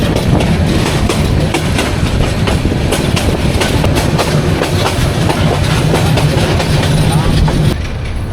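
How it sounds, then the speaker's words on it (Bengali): A Bijoy Express passenger train rolling slowly on the rails near a station, heard from aboard as a steady loud rumble with rhythmic clickety-clack of wheels over joints, continuous throughout and cut off near the end. "আমাদের ট্রেন বিজয় এক্সপ্রেস গরিপুর থেকে ছেড়ে এসে এখন শম্ভুগঞ্জ রেলওয়ে স্টেশনের আউটারে স্লো গতিতে চলছে"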